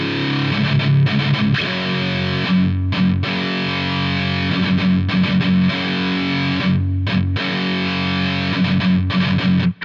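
Distorted electric guitar plays a riff from a song slowly, thick sustained notes with brief gaps between changes, loud and close throughout with no talking.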